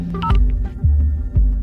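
A woman's mobile phone, left behind in a car, rings insistently with repeated electronic tones over a low throbbing buzz, several pulses in quick succession and no voices.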